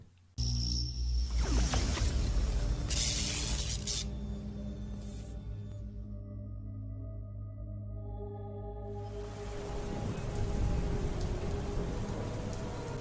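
Heavy rain and storm effects for an audio drama, a dense close downpour with spattering drops and low rumbling thunder underneath, continuous and loud throughout.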